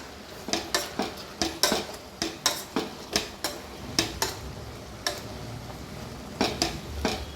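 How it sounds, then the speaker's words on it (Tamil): A utensil repeatedly scrapes and knocks inside a metal pot, mashing cooked ash gourd in a steady rhythm, about two strokes per second, with brief pauses between bursts. "வெந்த தடியங்காவை நல்லா மசிச்சு விட்ருங்க"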